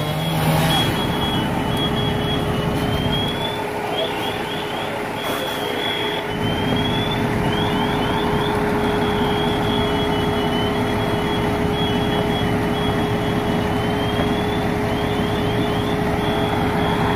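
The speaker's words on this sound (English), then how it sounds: "You heard the alarm going off?" Rapid electronic chirping beeps repeat in bursts over a steady, loud mechanical hum, going on and off throughout.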